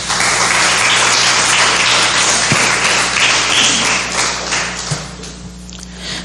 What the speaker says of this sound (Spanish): Brindemos un fuerte aplauso al Señor